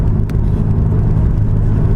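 A Toyota Supra MK4 with a 2JZ engine produces a loud, close, steady low rumble that holds level for about two seconds with no talking.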